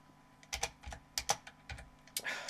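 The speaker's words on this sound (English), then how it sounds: "So I'm just going to ignore that and type" Fingers tap on a computer keyboard, producing a quick, uneven run of crisp clicks and clacks, close and fairly quiet, with no voice over them.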